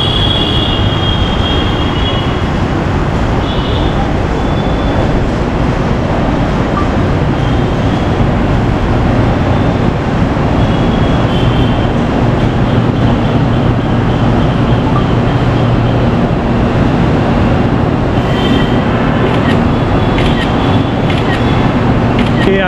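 A Mumbai Monorail car runs along its concrete beam, giving a loud, continuous rumble with faint high wheel whine, heard from close inside or beside the moving train with no speech.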